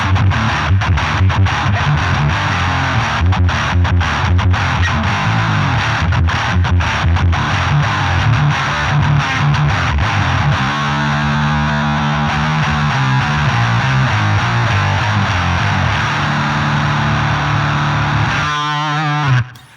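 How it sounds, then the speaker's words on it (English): Heavily distorted electric guitar through a KMA Machines Guardian of the Wurm distortion and noise gate pedal chugs in tight, rapid palm-muted bursts, loud and continuous for about twenty seconds, silences between hits cleanly gated before an abrupt stop. "I'm ready to get some nice tight chugs"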